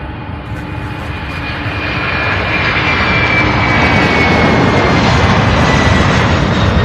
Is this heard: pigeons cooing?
no